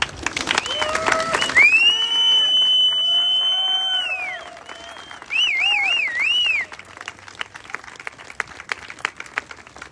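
Applause and cheering at a rally at the Minnesota State Capitol, scattered clapping from a crowd alongside loud whistles and warbling noisemakers, the clapping thinning into sparse claps by the end.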